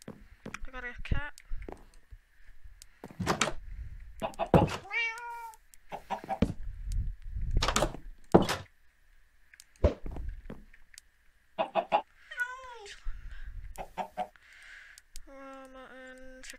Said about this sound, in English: I got a cat.